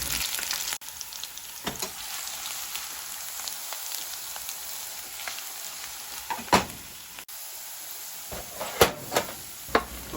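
Potatoes browning in a frying pan hiss with a steady close sizzle, broken by a few sharp pops and spatters, with no one speaking.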